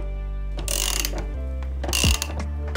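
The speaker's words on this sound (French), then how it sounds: "On prend un cliquet de 17, une clé de 17 et on serre." Bursts of ratcheting clicks from a 17 mm ratchet tightening a bearing puller on a moped gearbox, two loud close clusters of rapid pawl clicks with a low hum beneath.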